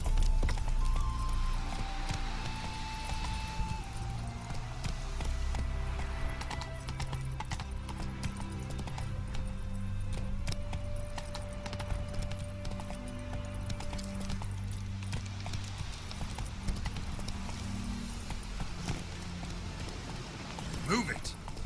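Hooves of the horse Roach galloping in The Witcher 3 game sound as a steady clip-clop rhythm under game music and a voice, with occasional whinnies.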